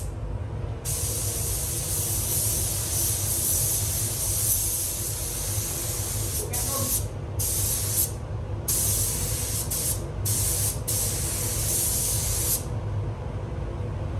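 Spray gun painting a Mitsubishi Colt CZT car in a paint shop, a loud steady hiss of sprayed paint cut by several short pauses where the trigger releases, no talk.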